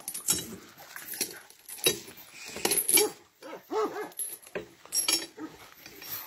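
A dog gives several short, sharp barks and yelps at irregular intervals, moderately close, with clinking and jangling sounds between them and no clear talk.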